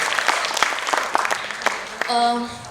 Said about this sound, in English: a big round of applause for Natraj dance classes